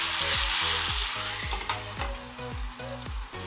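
Lentils tipped into hot oil with fried onions and dried chillies hiss loudly, a strong sizzle broken by a run of regular scraping or stirring strokes about every half second.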